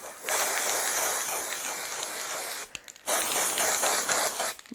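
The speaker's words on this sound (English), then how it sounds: "I'm just going to spray that on" White hairspray hissing steadily from an aerosol can onto hair, two long continuous bursts close up with a brief pause between them.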